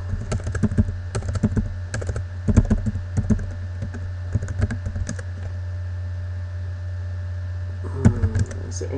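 Typing on a computer keyboard in bursts of rapid clicks with pauses between, close and clear over a steady low hum, with a short flurry near the end.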